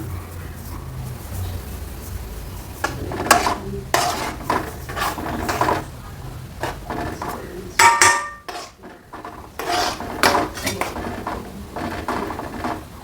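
Roasted semolina is stirred in a metal pot for a semolina and vermicelli kichadi, with irregular clanks and scrapes of a spoon against the pot in close, uneven bursts.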